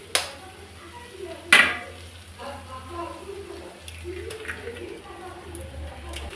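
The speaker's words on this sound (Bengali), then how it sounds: "একটা ডিম ফাটিয়ে এর মধ্যে দিয়ে দেবো।" An egg cracked into lightly fried vegetables in a pan while making roti chowmein, with a sharp crack near the start and a louder clack after, then soft sizzling and scraping.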